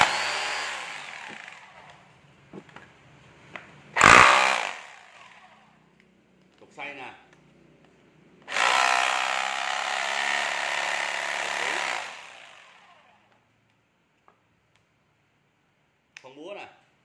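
A Makita HR2450 rotary hammer tested in chisel mode gives a short sharp burst, then a steady hammering run of several seconds, with someone speaking between and around the bursts.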